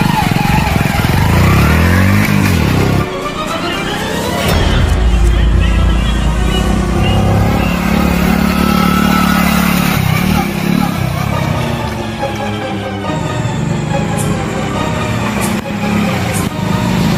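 A motorcycle engine runs loud and close, a steady rough drone that swells and eases slightly throughout with no break.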